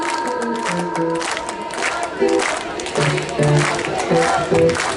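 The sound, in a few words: audience applause and cheering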